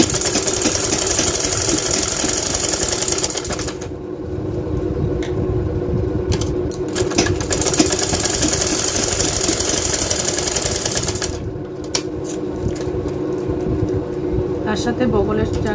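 A sewing machine stitches the seams of a lehenga blouse, a continuous fast mechanical whirring and knocking that runs nearly throughout, briefly easing twice.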